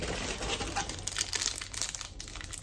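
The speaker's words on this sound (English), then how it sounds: "I have been using this plastic bag" Close, continuous crinkling and rustling of thin plastic, with irregular bursts of crackle throughout, loud and busy.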